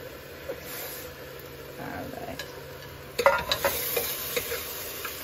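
Brussels sprouts for an Ayurvedic khichadi being roasted in a pan: a soft, steady sizzle with clacking stirs of a utensil that become louder and more frequent partway through, close and moderately loud.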